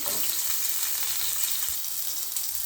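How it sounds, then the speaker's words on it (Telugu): Bottle gourd pieces with salt sauté in a pan, giving a loud, continuous close-up sizzle with no pauses. "సొరకాయ ముక్కలు వేసుకొని మగ్గించుకోవాలండి కొద్దిగా సాల్ట్ వేసుకొని"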